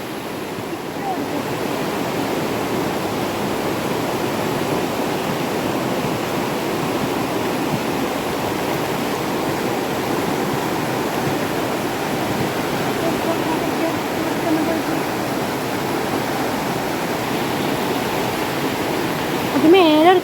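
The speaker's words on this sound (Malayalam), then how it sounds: "മഴ പെയ്തു" Rain pours steadily in a Kerala village, a dense, even hiss of falling water that holds at the same loudness for the whole stretch and swells slightly near the end.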